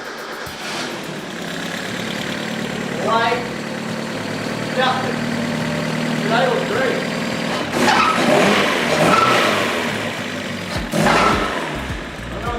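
The engine of an abandoned Mazda Miata under rebuild fires up, then idles and revs in uneven bursts across the clip, with people talking and cheering over it throughout.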